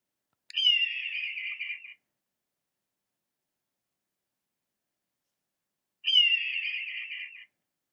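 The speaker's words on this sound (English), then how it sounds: "The red-tailed hawk." Two long, hoarse, descending screams from a red-tailed hawk, clean and isolated, separated by several seconds of silence.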